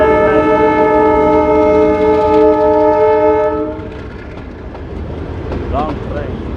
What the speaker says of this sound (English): It's an old locomotive train.